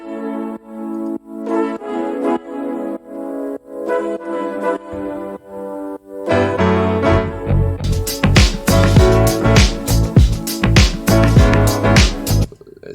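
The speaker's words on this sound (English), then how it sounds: "Then we go over to the brass sound" A brass part in a music production plays the chords as sustained, swelling stabs, first sparse and then joined by a full, loud band with punchy drums for the second half.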